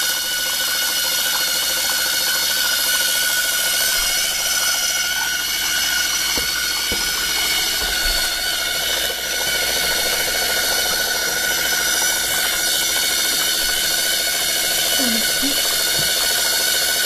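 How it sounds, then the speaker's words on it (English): Small electric motors spin continuously with a steady, even whine and hum that holds at the same level from start to finish, close and fairly loud. "Motors are spinning."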